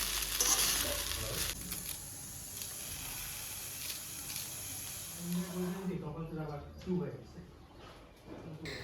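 Rice frying in a wok at home, a steady soft sizzle with occasional stirring scrapes, joined in the latter half by a person talking over the cooking.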